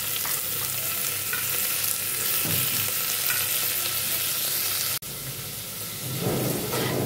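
Tomatoes frying for a peas and potato curry, a loud continuous close sizzle with occasional stirring and one sharp click near the end, no voices.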